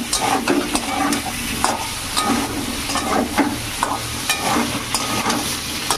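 Cumin paste frying with potatoes and pointed gourd in a pan, a steady close sizzle broken by repeated scraping stirs of a spatula, with no voices.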